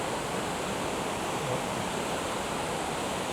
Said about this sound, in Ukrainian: І величезний водоспад.